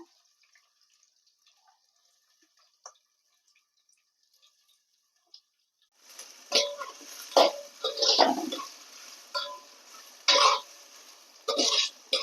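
Onions and green chillies hit a hot pan and start sizzling halfway through, a sudden burst of crackling and spitting that swells and fades in uneven bursts after a quiet, near-silent stretch.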